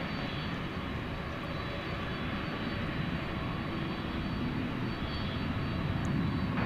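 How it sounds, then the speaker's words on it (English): An American Airlines Airbus A321 from Phoenix comes in to touch down at DFW Airport at night, its engines a continuous broad roar that builds slightly toward the end, with no talking. "American Flight 2210 is about to touch down from Phoenix, Arizona."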